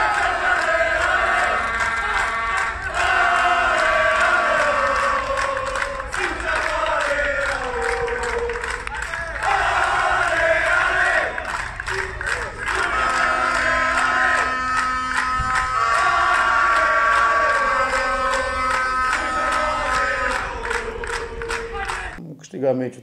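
A large crowd at a football stadium cheers, chants and applauds at length after a 3-0 Romanian Cup victory for the yellow-green team, a loud, dense roar that holds steady throughout with sustained voices.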